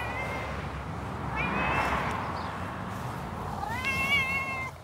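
A cat meows twice in a vegetable garden, with rising, drawn-out calls over a steady background hum; the second meow comes a couple of seconds after the first.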